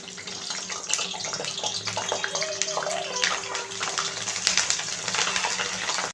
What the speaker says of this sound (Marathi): तर थोडंसं लांब सरकून तुम्ही ह्या मिरच्या सोडा. तेल गरम आहे.